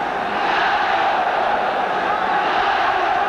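A football stadium crowd at a 1981 World Cup qualifier in China roars steadily behind the Chinese team, a dense, continuous wash of cheering with no breaks.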